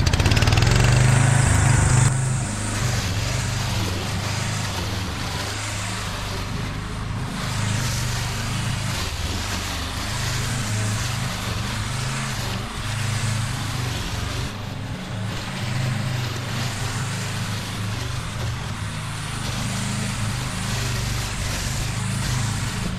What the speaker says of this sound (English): Let's give this mower a little test.